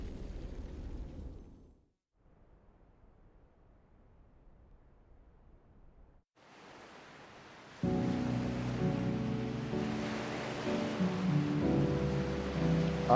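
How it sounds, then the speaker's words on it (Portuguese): Ocean waves in the video game Final Fantasy XVI roll as a steady broadband wash that dips briefly and then swells again, with game music rising over the surf in the second half. "Olha essas ondas do mar"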